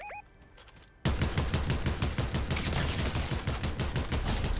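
Dense rapid gunfire from a Fortnite Chapter 4 Season 3 match bursts in after a quiet second, with repeated sharp shots rattling on steadily and loudly to the end.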